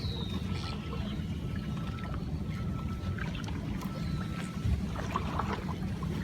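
A kayak moving on water during a solo paddle: a steady low wash of water against the hull with faint splashes and drips, continuous and close, with no talking.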